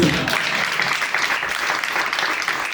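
An audience at a comedy club breaks into applause, a loud, dense wash of clapping that holds steady throughout without any gaps.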